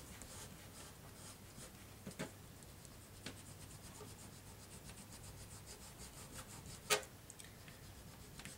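Sticky residue being rubbed off a surface during mini album crafting, a soft, steady scratchy rubbing that keeps going with a few light taps and one sharper click, faint and close, no talking.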